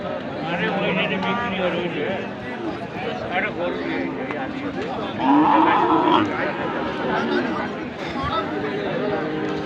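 Cow and heifer calf mooing at the Ambari cattle market, with a drawn-out low moo rising near the middle over a steady din of chattering traders and crowd noise.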